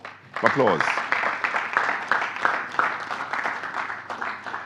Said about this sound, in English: we really should give the FSC a round of applause